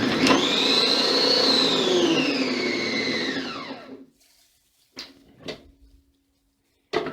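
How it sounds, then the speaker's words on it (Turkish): A food processor whirs loudly for about four seconds while chopping potatoes and onions, its motor pitch slowly falling before it stops, followed by a few sharp clunks of the lid or bowl. "robotun kapağını kapatalım ve patates ve soğanları parçalayalım"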